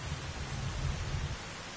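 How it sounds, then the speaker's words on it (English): Rain falls in the video game Arma Reforger as a quiet, steady hiss with a soft low rumble underneath, with no voices. "It's raining now."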